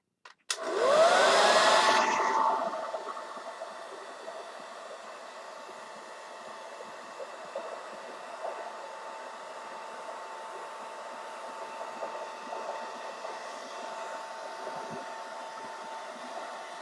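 A hair dryer starts with a loud blast, then settles into a steady, even whirring hum that runs on without pause, close by and with no talking over it.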